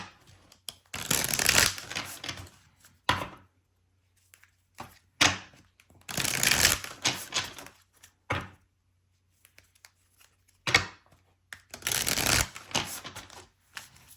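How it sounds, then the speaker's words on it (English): Tarot deck being shuffled by hand in three loud bursts of riffling, slapping cards, with quiet gaps and scattered single card taps between them. "Let me shuffle these real quick because I just want to."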